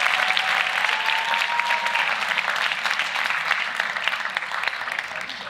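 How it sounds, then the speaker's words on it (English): Steady applause fills the room at a school's fall sports awards dinner, a thick wash of clapping from the graduating class and guests that holds at a constant level and tapers only slightly toward the end. "Give yourself a round of applause for that."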